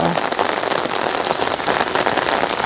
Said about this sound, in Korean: 오늘 비가 내리고 있는 5월이 시작되는 정원에